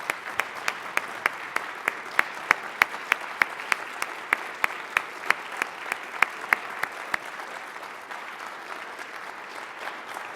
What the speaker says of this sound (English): Please join me in another round of applause for Governor Brown.